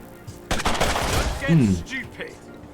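Gunfire in the video game Mutant Year Zero: Road to Eden, a sharp burst of several rapid shots opening a dense noisy stretch, mixed with game sounds and a tonal sweep.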